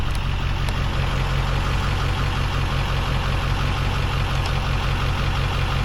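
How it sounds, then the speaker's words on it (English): A 2002 Ford F250 truck engine idles steadily in its lowered stealth-mode idle, a low, even rumble with a constant throb that continues unbroken throughout. "you can use that on stealth mode, which it kind of just lowers the idle a little bit"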